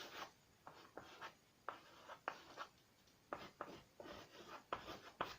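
A pen scratches out a physics solution on paper in short, quiet bursts of strokes with brief pauses between them, close but faint, with no speech.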